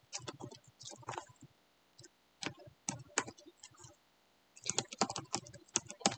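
Message typed on a computer keyboard: bursts of quick, close key clicks with brief pauses between runs, fairly soft and alone without talk.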